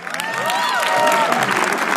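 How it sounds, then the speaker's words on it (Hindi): A comedy show crowd applauding and cheering for a comedian, loud and close, with whoops and excited voices rising over the clapping. "अजीम बनात वाले के लिए तालियां प्लीज"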